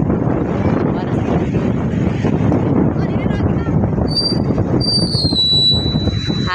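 Strong wind gusts at the seashore buffet the microphone with a constant loud rumble and roar, while faint voices and a few high bird-like chirps come through underneath.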